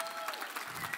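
A small studio audience claps during the taping of a Lithuanian talk show, giving a short, dense burst of applause that lasts about a second and stands alone.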